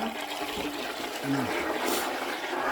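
A continuous rushing of water from a toilet flush, steady and fairly loud throughout, with a faint voice briefly mixed in.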